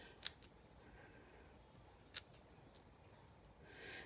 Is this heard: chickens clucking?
no